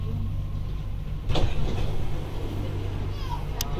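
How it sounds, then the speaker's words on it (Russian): Dubai Metro Red Line train on an above-ground section: a steady low rumble with tonal hum, a rattling surge around midway and a sharp click near the end, with faint voices in the background. "Тут метро наземное."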